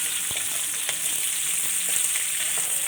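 Shallots sauté in an oil-filled pan for a Chettinad mutton varuval, a close, steady crackling sizzle with faint scrapes and no voices.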